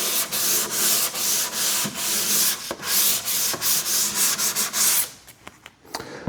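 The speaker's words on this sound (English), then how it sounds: "Get your 320 grit sandpaper and go in the direction of the grain" Wood being hand-sanded with 320 grit sandpaper along the grain before a wipe-on poly finish: steady, close rasping strokes in a repeated rhythm, then a few lighter scuffs and pauses.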